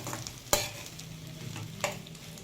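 Rice and ghee are stirred in a pan for kesaribath with a faint, steady sizzle, and the spoon knocks against the pan twice with sharp scraping clicks.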